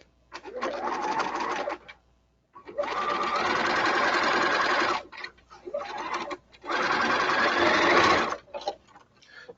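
A Bernina sewing machine runs in three bursts of rapid, steady stitching, separated by short pauses, close up and fairly loud.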